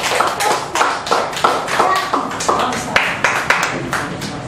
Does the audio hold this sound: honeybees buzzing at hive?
no